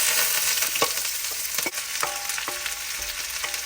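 Chopped onion, ginger, garlic and green chilli hit hot oil after mustard seeds have popped, the start of an egg roast. The sizzle is steady, with sharp ladle scrapes and taps of stirring and no voices.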